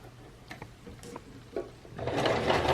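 A domestic sewing machine stitching fabric for a face mask, turned slowly by hand at the wheel near an edge: scattered soft ticks and mechanical clicks, then a denser whirring burst of stitching toward the end, close and without talk.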